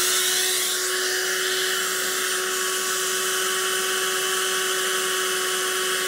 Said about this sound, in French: je vais encore chercher un sèche-cheveux.